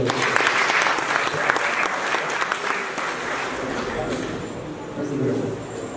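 Audience at a Bargny ceremony honouring top baccalaureate graduates applauds a performer, loud, dense clapping that thins toward the end with some crowd noise beneath.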